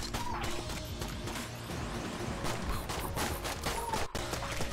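Machine gun fire in a helicopter video game, a dense continuous rattle of rapid shots that runs loud through the whole stretch, with no talk over it.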